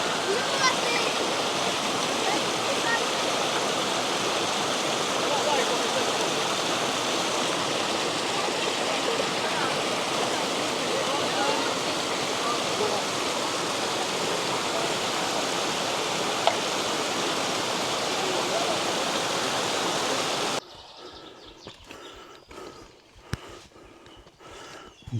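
A mountain stream in the Tatra valleys near Poronin rushes steadily over rocks, a loud broadband roar that holds for about twenty seconds before cutting to quieter outdoor sound with faint knocks.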